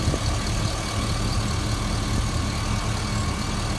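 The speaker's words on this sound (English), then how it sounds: "My phone does pick up small engine noise, like valve train noise" A 2006 Chevrolet 2500HD 4x4 truck with a remanufactured engine idles steadily up close, a constant low rumble overlaid with a fast ticking clatter from the valve train.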